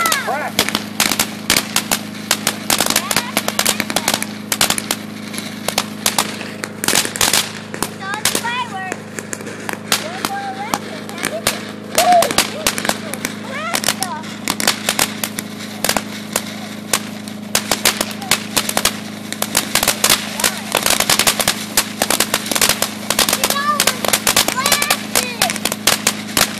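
Firecrackers go off on concrete outdoors in a long, rapid string of sharp cracks and pops, loud and close, with crackling bursts continuing throughout and people talking faintly in the background.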